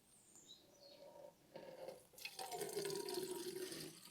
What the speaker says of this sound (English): you hear it glugging, and it's not a smooth pour at all